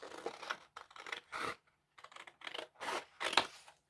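Scissors snip through a paper photo of a grandmother being cut out for a collage glue book, a series of short, close, crisp cuts in irregular bursts with brief pauses between them.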